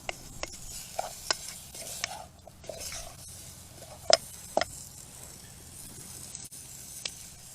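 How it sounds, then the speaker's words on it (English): Jambalaya with spices being stirred in a pot at a bushcraft camp in Wisconsin, a faint low sizzle under scattered metallic clinks and scrapes of a spoon against the pot. "Give that a stir. Wake those spices up."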